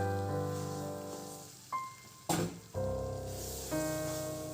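Ground mung dal paste stirred into ghee for Ashoka halwa gives a soft, close sizzle broken by a few spoon scrapes and clacks against the pan, with no voices.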